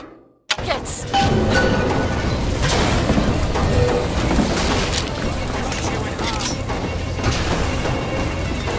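Rocket blasts and battle chaos in BioShock Infinite erupt after a brief quiet, followed by a dense, continuous barrage of booms, crashes and gunfire.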